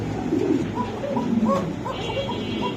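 Koka pigeons coo nearby in a loud, low, rolling series of throaty coos that repeat in quick succession over a steady background hum.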